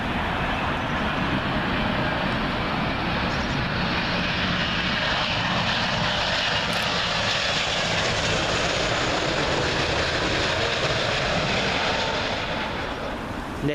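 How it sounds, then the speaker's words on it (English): A United Airlines Boeing 777 in Star Alliance livery at Heathrow Airport makes a broad, steady engine roar that lasts throughout and fades slightly at the end. "United Airlines Star Alliance 777 livery"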